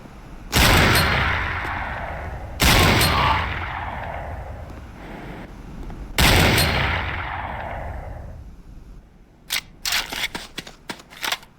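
Gunfire at a firing range in the game Command and Conquer Renegade: three loud, separate shots, each ringing out in a long decaying echo. A burst of quick, sharper clicks and pops follows near the end.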